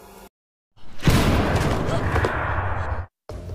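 Anti-tank shell impact in a Japanese action film: a loud, dense explosive blast with rumbling gunfire sustained for about two seconds, bracketed by brief silences and quieter background sound.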